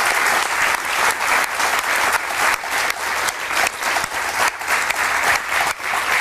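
Loud, vigorous applause fills a theater as the audience claps for a dance crew at a magic show, with steady rhythmic pulses from many hands for about six seconds.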